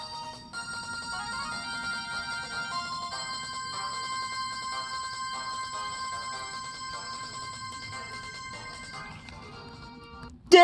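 A melodic cell phone ringtone from an LG CG225 or VX3300 plays steadily and fairly loud, its bright repeating tones continuing alone until a brief sharp clatter at the very end.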